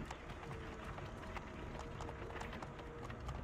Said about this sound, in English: who's actually controlling these horses then?